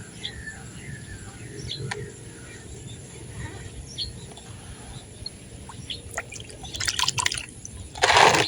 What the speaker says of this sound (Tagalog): may tubig na po dito sa ilalim.